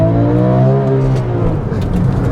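Porsche 911 GT3 pulling away on a race circuit, its engine tone climbing steadily and loud throughout with a strong, layered drone under a brief low rumble.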